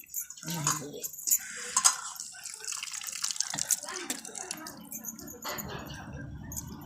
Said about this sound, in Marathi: लसूण धुवून घ्यायची का बघू शकता पात धुवून घ्यायची अशी जाईल